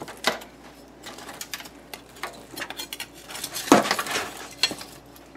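Knife slicing through smoked BBQ beef ribs from a vertical smoker, several sharp clicks and cutting scrapes against a board, close and intermittent with no voices.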